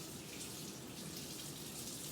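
Warm water running steadily from a sink tap during a handwashing procedure, a constant broadband hiss with no pauses, close and fairly quiet, with no voices.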